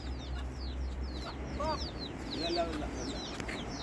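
Small chirps and soft clucks from young chickens, scattered and fairly close, over a low background hum.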